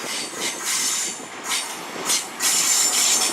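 Great Western Railway Cornish Riviera service from London Paddington to Penzance, led by locomotive 43152, pulling into Plymouth station with steady rumbling rolling noise, clicking wheels and high wheel squeal, close and fairly loud.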